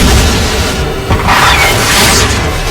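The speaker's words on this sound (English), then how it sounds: "An instant later, the explosion ripped through the air." A rocket launcher explosion effect, a loud booming blast with a rushing whoosh that swells, dips and swells again across a few seconds, heavy and close.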